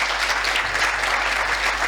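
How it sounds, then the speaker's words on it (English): An audience at a postgraduate awards ceremony gives steady, dense applause, a short even burst of many hands clapping in a large hall. "Give a round of applause for that."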